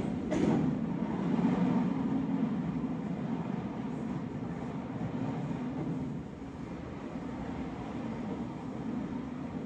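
An RER commuter train running, a steady broadband rumble with a brief louder burst near the start, then continuous rolling noise that eases slightly toward the end; no voices.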